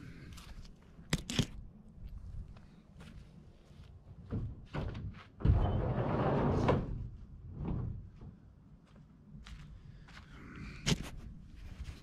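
Clunks and knocks of a car door being handled and opened, with a creaking scrape in the middle, fairly close, no talking.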